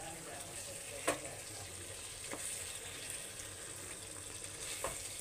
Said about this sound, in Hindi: हल्के हल्के हाथ से चला के इसे भून लेते हैं